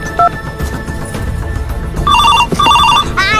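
A bright electronic phone ringtone chirps in a repeating melodic pattern over busy background noise, loud and close, with a short beep just before.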